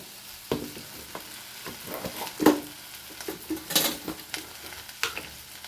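Okra pieces fry and sizzle in a pan of hot oil while a spatula stirs them, giving irregular scraping clinks and taps over a steady crackle; no one speaks.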